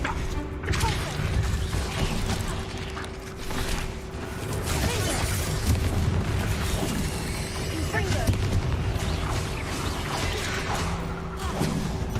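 Spell combat in the Hogwarts Legacy video game, with a Confringo fire spell blasting among other spells. Dense crashing and booming impacts build into busy battle noise, with a steady tone and a voice speaking over it.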